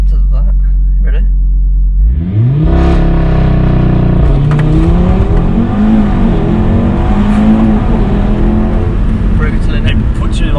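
Audi RS3 launching hard under launch control, the engine first idling low, then surging into a loud rising roar through quick gear changes, heard from inside the car with voices talking.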